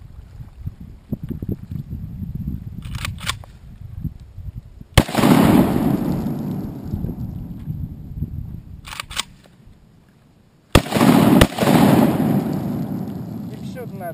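An AK-47 rifle fires two loud, sustained bursts of automatic fire outdoors, the first starting about a third of the way in and the second near the end, with quieter background noise in between.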